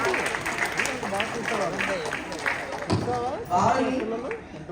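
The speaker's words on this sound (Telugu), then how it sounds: "అందరూ గట్టిగా చప్పట్లు కొడుతూ" An audience applauds after a children's Ramayana drama put on by students at a Telugu school in America. Steady, dense clapping runs throughout, mixed with crowd noise and voices.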